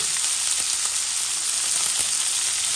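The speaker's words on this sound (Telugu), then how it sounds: "పులుసు కాసేపు మగ్గనివ్వాలి ఇది ఇలా మగ్గుతున్నప్పుడు" Tamarind stew (pulusu) sizzles and simmers in a pan, a steady bright hiss with faint bubbling pops and no voices.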